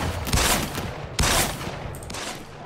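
Gunfire in the mobile battle-royale game Free Fire crackles as overlapping bursts of shots, with two sharp louder volleys standing out amid continuous, close, noisy firing.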